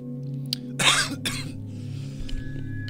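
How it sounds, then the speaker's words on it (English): A couple of harsh, raspy coughs up close, with a steady low hum in the background. "Apologies for the spooky cough."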